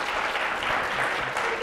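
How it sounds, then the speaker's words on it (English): Audience applause at a live radio show, a steady wash of clapping hands filling the moment after a contestant answers correctly, fairly close and continuous with no break. "Give him a round of applause"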